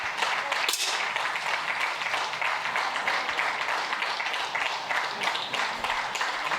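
A crowd applauds and cheers steadily through a para shooting final, the mixed 10m air rifle standing SH2 event, a dense, loud wash of clapping with no break.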